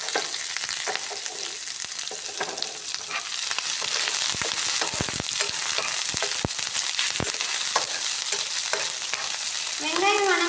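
Shallots and curry leaves sauté in hot oil for a cabbage pepper stir-fry, giving a continuous loud sizzle and frying crackle with scattered stirring scrapes.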